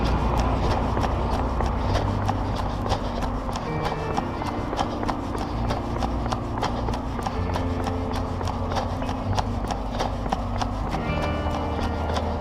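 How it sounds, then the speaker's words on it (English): Asics running shoes clack on pavement in a quick, steady rhythm of sharp footfalls, heard over a constant hum of town traffic. "you hear the clack of these running shoes that I'm wearing"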